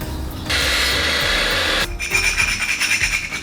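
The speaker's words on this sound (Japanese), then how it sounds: "そしたら反対側も同じように単管パイプ切っていきたいと思います。" A steel scaffolding tube is sawn through by hand, a steady rasping grind that starts, pauses briefly, then resumes in rougher, uneven strokes, close and fairly loud with no talking.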